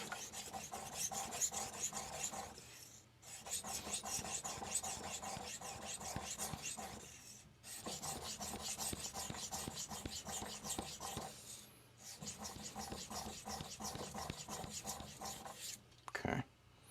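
An Aogami 2 steel knife is stroked across a King resin-bonded 1k diamond stone in long, steady rasping passes, separated by brief pauses, with a short knock near the end.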